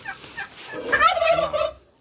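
A turkey gobbles in a rapid, wavering burst, close and fairly loud, then falls silent.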